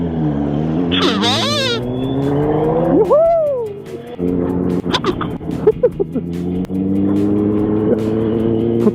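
Yamaha R6 sport motorcycles pull away on a night group ride near Jebudo, with close, loud engines revving and rising in pitch as they accelerate, one high-revving bike climbing sharply over the others.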